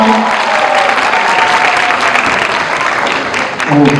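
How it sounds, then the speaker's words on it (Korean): An audience at a high school admissions briefing applauds to welcome a speaker, with steady, dense clapping throughout and a voice briefly heard near the end. "큰 박수 부탁드립니다."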